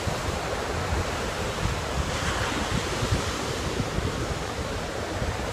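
Calm ocean waves wash onto the Ocean City beach front on a cold day, a continuous broadband surf rush mixed with wind buffeting the microphone, with no voices.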